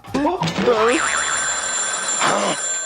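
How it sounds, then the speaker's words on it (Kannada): A telephone rings with a bright, sustained electronic bell tone, heard within a Kannada TV comedy sketch, with voices speaking briefly before and after the ringing. "ಕರೆ ಬರುತ್ತಿದೆ. ಅದು ನನಗ್ ಬರ್ತಿದೆ."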